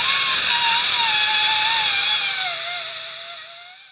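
A Sawzall reciprocating saw grinds through a tough, unidentified material on a two-stroke Banshee ATV build, a loud, steady high-pitched whine with a wavering tone that holds throughout and eases off slightly near the end.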